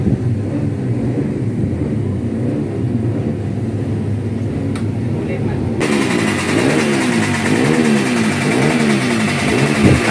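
Two-stroke standard underbone racing motorcycle in novice class revving in a race paddock at GBT Surabaya, a loud buzzing engine that climbs and falls in repeated revs, growing more intense midway, with voices talking over it.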